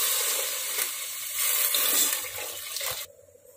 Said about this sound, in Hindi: अब इस मोमेंट में हम ऐड करते हैं पानी।